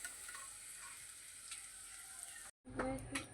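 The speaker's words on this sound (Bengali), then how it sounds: "সম্পূর্ণ আলুগুলো আমি এভাবে ভেজে নেব।" Potato slices frying in oil in a pan, a faint steady sizzle that cuts out abruptly near the end and gives way to a few clinks and a short burst of closer noise.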